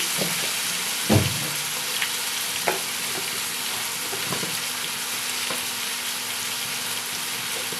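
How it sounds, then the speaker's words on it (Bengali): Prawns go into a pan of frying mixed vegetables and set off a steady, close sizzle. A few soft thuds and clinks from stirring break through the frying. "এই যে চিংড়ি মাছগুলো এর সঙ্গে দিয়ে দেব"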